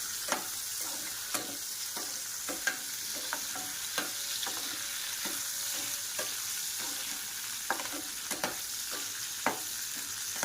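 Onions frying lightly in a pan with ginger and garlic for a Chinese-style dinner dish, a soft steady sizzle broken by repeated clicks and scrapes of stirring, close and fairly quiet with no talking.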